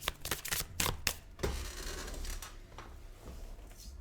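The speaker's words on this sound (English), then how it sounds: "I'm just going to shuffle a few times" Tarot cards are shuffled by hand in a few quick, crisp riffling bursts, close and clear, then settle into softer sliding and rustling.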